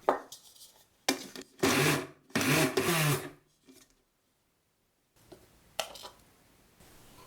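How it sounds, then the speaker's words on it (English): A blender whirs through lemongrass and galangal for a curry laksa paste, running in several short, loud pulses separated by pauses, with quieter scraping and handling noises toward the end. "Blend the lemongrass and the galangal."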